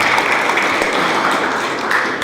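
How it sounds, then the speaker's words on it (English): An indoor audience applauds a speaker named Paul at a talk on supply chains, giving steady, dense clapping throughout with a few sharper claps standing out and no one speaking. "how about another round of applause for Paul?"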